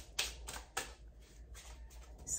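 Large tarot cards being shuffled by hand, giving a few sharp riffling bursts separated by softer rustling and sliding, close and fairly quiet with no talking.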